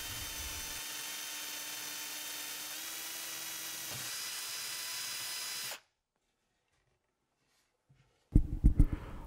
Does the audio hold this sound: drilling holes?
yes